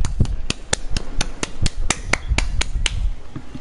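A steady run of about a dozen crisp hand claps at an even beat, keeping time along with a song, fairly close and clear over a low background hum.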